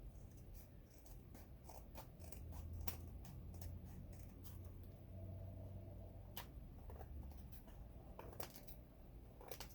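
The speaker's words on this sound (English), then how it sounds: "Sometimes it's hard to get that little bit with your scissors." Scissors trimming paper edges while making a notebook, heard as quiet scattered snips and crisp clicks over a soft, steady background rustle.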